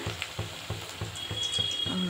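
Oil bubbles and crackles steadily in a pan up close, with regular soft scraping strokes as chicken pakoras are turned while deep frying.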